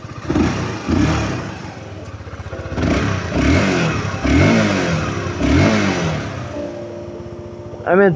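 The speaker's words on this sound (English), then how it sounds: "I'm not going to redline the bike because I know what happens if you simply redline the bike. But just listen to it." A motorcycle engine revs close by in repeated rising blips, each one climbing and falling back to a lumpy idle, with a short sharp burst at the very end.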